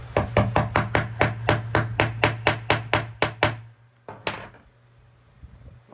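A small watchmaker's hammer taps a piece of a crocheted visor in a quick, even run of about fourteen crisp strikes, then pauses briefly before two more close, sharp knocks.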